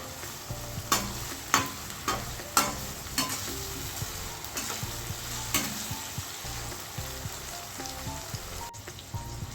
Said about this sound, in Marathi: आता हे सर्व मिश्रण आपल्याला छान परतून घ्यायचे आहे